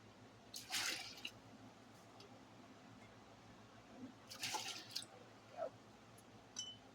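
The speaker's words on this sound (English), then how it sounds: "I'm going to go ahead and just pour some of that water from these jars in there because it is hot." Hot water poured from canning jars into a boiling water bath canner, heard as two brief splashy pours with a few drips between, fairly quiet and close, with no talking.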